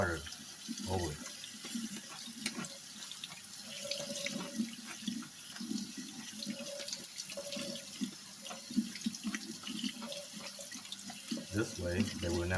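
Cold tap water runs steadily from a kitchen faucet over cooked rice in a sink, a continuous close splashing wash that holds at an even level throughout.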